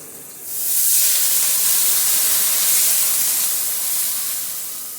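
Water poured into a hot pan of frying spice masala bursts into a loud hissing sizzle of steam that swells quickly and holds strong before easing slightly toward the end.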